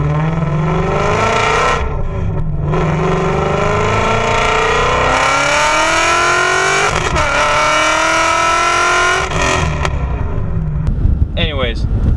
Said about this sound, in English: The car can't sound this good.